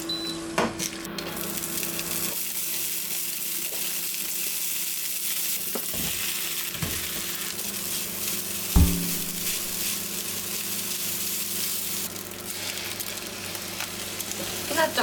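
A steady sizzle of oil in a frying pan as potato chips are added to a home-cooked dish, with a few stirring scrapes and a sharp clink partway through, and no talking.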